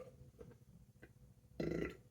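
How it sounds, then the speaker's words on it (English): Single close, deep burp after drinking ginger shots, a short guttural belch over a quiet background. "excuse me, pepper burp."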